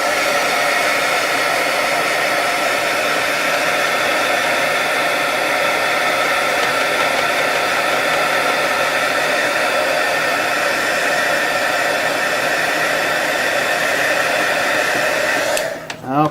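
A heat gun blows over a freshly shaded miniature to dry the paint, a loud constant whooshing roar held for about fifteen seconds before it cuts off abruptly near the end, with no talk.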